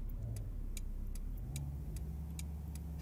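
A Renault Megane II drives off in Euro Truck Simulator 2, a low steady engine hum with regular light ticking clicks like a turn signal, quiet and without talk.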